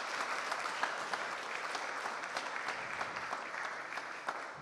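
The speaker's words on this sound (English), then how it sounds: "So another round of applause," An audience applauds a guest on stage at a talk about an animated production, with steady dense clapping and a few louder claps standing out throughout.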